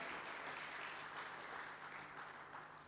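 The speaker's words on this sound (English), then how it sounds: "a round of applause for our partner" An audience at a finance partnership agreement signing ceremony applauds a partner bank with a steady, even patter of many hands clapping, fairly faint and distant, gradually easing toward the end.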